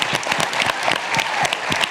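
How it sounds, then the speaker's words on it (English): Audience applause at a school leadership forum on race and equity, a dense burst of many hands clapping close and loud, steady throughout with no talking. "Can we give her a round of applause for following instructions?"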